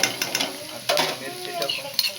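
Chopped onion sautéing in a pan for a wild-vegetable bhaji: a soft steady sizzle broken by repeated scraping stirs and light metallic clinks of a spoon against the pan, close up.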